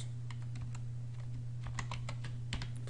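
Rapid, irregular clicks of typing on a computer keyboard, close and fairly quiet, over a steady low electrical hum.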